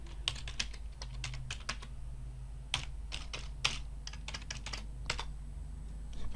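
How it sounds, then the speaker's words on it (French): Fingers type a password on a computer keyboard in uneven bursts of crisp, close key clicks over a low steady hum, with no talk. "C'est le mot de passe là que je voulais pas taper, mais il faut le taper"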